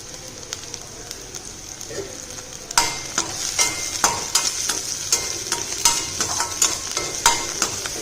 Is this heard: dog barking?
no